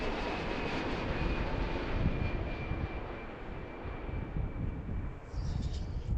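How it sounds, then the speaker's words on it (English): A Boeing 787 Dreamliner arriving from Paris at Philadelphia, a broad steady jet engine roar that stays fairly loud and constant throughout with no talking. "Dreamliner number 2, coming in from Paris, France."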